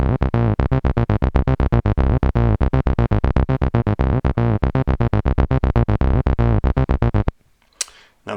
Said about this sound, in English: You can bring saturation into the sub-oscillator.